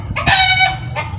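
Rhode Island Red chickens in a coop give a loud, close, drawn-out crowing call followed by a shorter cluck.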